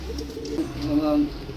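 Pigeons cooing close by in a loft of flying pigeons, soft low throaty coos over a faint background voice.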